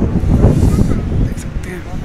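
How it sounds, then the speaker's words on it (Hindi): Strong mountain wind buffets the microphone near Rishikesh, a loud continuous low roar and rumble across the whole moment, with a voice faintly in the mix. "बहुत तेज़ हवा चल रही है, अभी बहुत ज़्यादा तेज़ हवा चल रही है"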